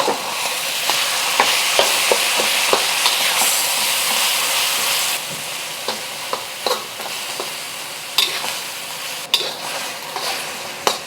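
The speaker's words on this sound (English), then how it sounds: "Just want to flatten it out so that we can get a good sear on one side." Spaghetti searing and frying in a hot pan for dan dan noodles, a loud, steady close sizzle with scattered scraping and clicking of a utensil stirring and pressing the noodles, without talking.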